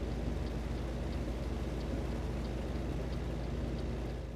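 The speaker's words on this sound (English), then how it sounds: "it's really raining." Heavy rain pours in a truck driving game, a dense, steady hiss with a low rumble underneath that holds evenly throughout and tapers only slightly at the end.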